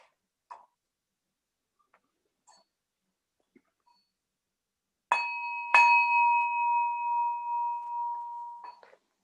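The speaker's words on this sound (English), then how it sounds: "We begin our service by ringing a bell to bring us together." A single bell struck to open a Unitarian Universalist service rings out loud and clear after a few faint taps, its steady tone sustaining for several seconds and slowly fading, with no talking over it.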